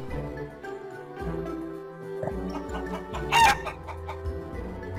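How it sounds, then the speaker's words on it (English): Domestic farm chickens cluck in short repeated bursts while a rooster lets out a loud, brief crow partway through, over a steady background of light music. "A chicken."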